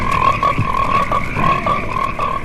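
A dense chorus of frogs croaking loudly and continuously, overlapping rhythmic calls in a film trailer for Frogs, with no talking.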